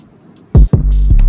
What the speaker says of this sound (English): I just like to put this kick roll in there.